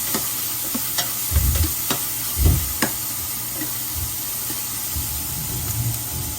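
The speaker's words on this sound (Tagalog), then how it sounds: "Lutuin natin ang ating sibuyas muna" Onions frying in a pan ahead of mussel sisig, with a constant loud sizzle and occasional thuds and scrapes of a spatula stirring them.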